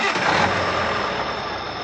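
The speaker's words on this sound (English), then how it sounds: "Joe started the engine, and the journey began." A truck engine running steadily as it starts up, a dense broadband rumble with a low throb, loud and close for the whole stretch with no talk.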